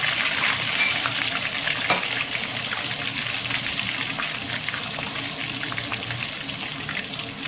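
Ginger and garlic fry steadily in a pan with a dense, even crackling sizzle close by, broken by an occasional faint clink.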